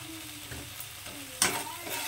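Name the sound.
tomato with salt and spices being sautéed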